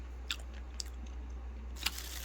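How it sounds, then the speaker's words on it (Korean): Soft, close chewing of blueberry chocolate cream birthday cake studded with chocolate chips, with a few brief crunchy bites over a quiet background hum. "중간중간에 이런 초코 초코칩 같은 것도 씹혀요"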